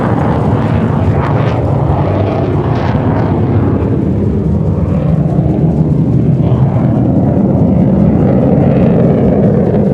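A Shelby Cobra 427 V8 runs loudly and close by, a steady, deep, rough exhaust rumble that continues without a break.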